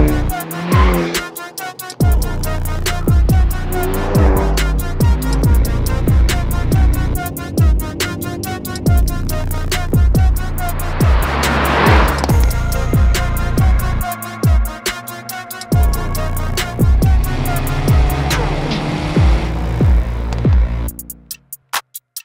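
A 2022 Hyundai Elantra N with an illegal exhaust drives hard, its engine loud and close, revving up and down through gear changes with crackling bursts before cutting off near the end.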